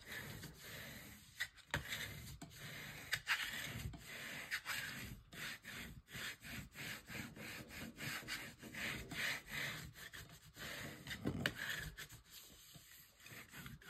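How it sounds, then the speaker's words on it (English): Paper pressed down and rubbed with a burnishing tool after score tape is removed during a folio base build, a long, faint stretch of dense, scratchy back-and-forth rubbing strokes close by. "Give it a good burnish."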